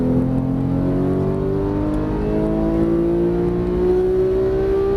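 A Porsche 991 GT3 accelerates hard on a race track, its engine note rising steadily in pitch over five seconds as a loud, sustained high-revving wail with no pause.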